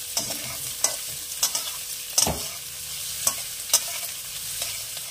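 Chopped onions fry in a pan for dhaba-style Rajasthani chana dal, a steady close sizzle under repeated scraping stirs of a utensil against the pan.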